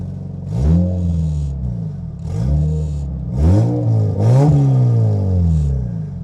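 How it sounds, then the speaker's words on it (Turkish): A turbocharged 1.6 VTi Honda Civic exhaust revs loudly and close up in several separate bursts, each rise and fall of engine pitch clearly heard with brief pauses between them. "Bu arada arkadaşlar çıkmadan şu egzoz sesini küçük bir dinletelim."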